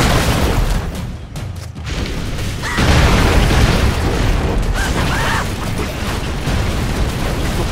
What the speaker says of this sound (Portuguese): Ah, bomba.